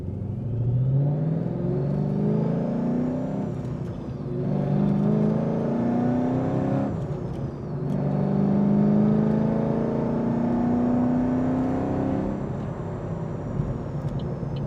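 A black 2013 Chevrolet Camaro accelerates hard through several gears, its engine note rising steadily in each gear with brief dips at the shifts, loud and continuous with a high whine above the roar.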